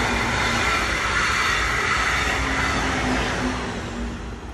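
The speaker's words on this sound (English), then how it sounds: "I also need to wait for the train." Train rumbling past steadily at close range, a broad continuous roar with faint wheel hum that holds the whole time, then begins to fade slightly at the end; no voices.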